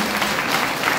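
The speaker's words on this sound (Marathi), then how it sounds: "जोरदार टाळ्या होता" A crowd at a birthday celebration for a Republican party leader breaks into steady, dense applause, many hands clapping together at close range.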